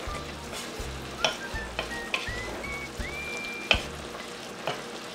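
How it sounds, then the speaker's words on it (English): Fish cooking in caramel sauce for Vietnamese cá kho tộ, being stirred as it bubbles: a crackling sizzle broken by sharp spoon clinks and scrapes against the pot, with a low rhythmic hum underneath. "When the fish boil, and you stir a fish around"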